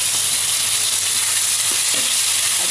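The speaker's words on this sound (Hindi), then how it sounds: "इसको फ्राई करते थोड़ा सा मैं इसको ढक दूंगी।" Sliced mango frying in hot tempering oil for a sweet mango chutney, giving a steady, loud, close sizzle with crackling throughout and no voices.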